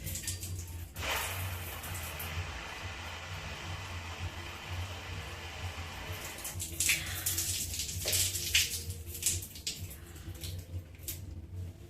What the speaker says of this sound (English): I'll just open the shower a little bit